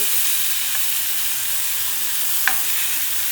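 Chicken rolls sizzle steadily in a frying pan as they are turned, a constant close hiss with one brief clink of utensil partway through.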